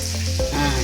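A pot of rasam boils close by, with a busy bubbling sizzle and small pops running continuously through the short moment.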